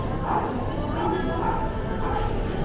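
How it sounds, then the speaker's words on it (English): Small dogs at an animal shelter in Japan give a few scattered yips and barks, moderately close, under a steady background murmur of the room. "Little Japanese dogs."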